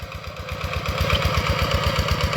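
A small walk-behind tractor engine chugs steadily while plowing a rice field, a close, rapid, even thumping pulse with a rattling mechanical edge and no voices.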